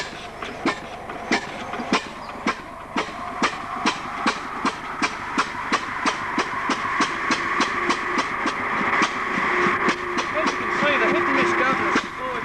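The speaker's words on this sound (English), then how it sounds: "It employs the collapsing magnetic field ignition system through a mechanically operated spark plug and a hit and miss governor." An old hit-and-miss stationary engine with spark-plug ignition drives a sawbench, firing in sharp regular beats that quicken slightly and grow louder over a low mechanical hum, with a faint voice in the background.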